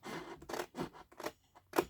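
Scissors snip through a paper craft piece close up, with a quick run of about five or six short crisp cuts.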